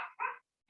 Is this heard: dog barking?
yes